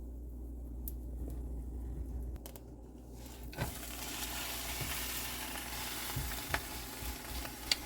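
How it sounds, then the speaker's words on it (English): Red and green peppers sizzle and fry steadily in a hot pan for burrito filling, a dense continuous crackle with occasional stirring scrapes, close and fairly loud, with no voices. "These don't have to cook as long because I basically sauteed them"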